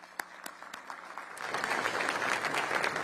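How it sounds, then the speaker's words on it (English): Applause at a Patriot Day remembrance breakfast honoring police officers and an Orlando firefighter. It opens with a few scattered claps, then swells into steady, full applause from a crowd that holds to the end. "A round of applause for them"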